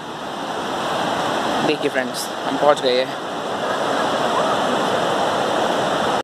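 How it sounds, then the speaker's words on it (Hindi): River water near Maldevta, Dehradun, diverted through a cut channel for irrigation, rushes with a constant steady roar throughout, while someone talks briefly over it. "ये नदी से रास्ता काट के निकाला जा रहा है पानी"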